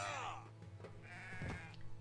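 A wavering sheep bleat sounds from the video game Renowned Explorers during combat, followed by softer game effects and a brief second bleat-like call, fairly quiet overall.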